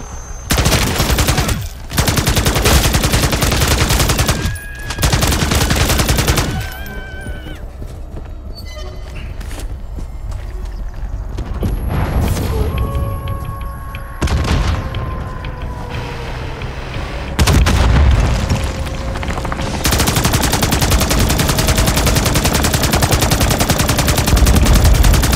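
Gunfire and explosions in the video game Call of Duty Modern Warfare 3, set in Zambia, come as loud bursts of automatic fire and heavy blasts. They are broken by quieter gaps with whining and electronic tones.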